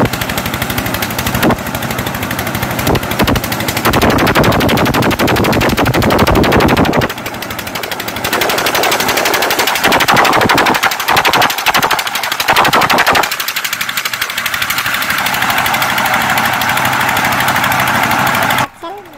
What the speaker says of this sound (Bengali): খোসা সহ ভুট্টা মাড়াই হচ্ছে মেশিনটা দিয়ে।